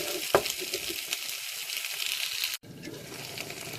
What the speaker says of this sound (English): My chicken has been cooking for about 10 minutes now.